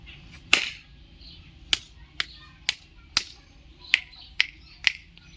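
Seven sharp, crisp finger snaps, fairly close and isolated, spaced unevenly across a quiet background, with one stronger snap near the start.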